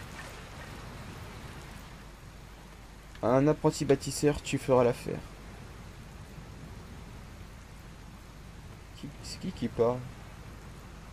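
Steady rainfall patters throughout a stormy scene in the video game Dragon Quest Builders 2, a soft constant hiss beneath bursts of French dialogue.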